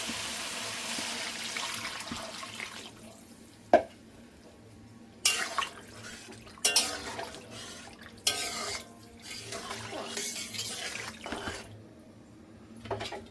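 Water added to a pan of Bengali bata fish curry with potato and eggplant, a soft close splashing and trickling, with a few sharp clinks of utensils against the pot.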